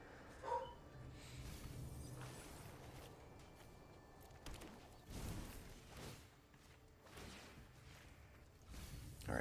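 A dog indoors barks and yips in scattered bursts over about nine seconds, fairly soft and somewhat distant against a low room background.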